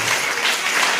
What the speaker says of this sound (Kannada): ಎಲ್ಲರೂ ಚಪ್ಪಾಳೆ ತಟ್ಟಣ ಅವರು ಇದಕ್ಕೆ